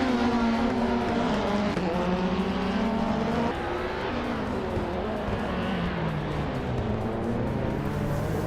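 Race cars in a racing video game, including a 1997 Volvo S40, with several engines roaring together, pitches rising and falling continuously and loud throughout.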